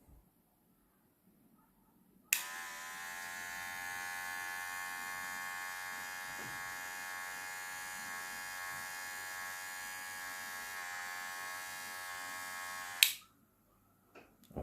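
Kemei KM 2600 electric hair clipper switched on and running for about ten seconds, a steady high-pitched motor buzz close up, starting and stopping abruptly.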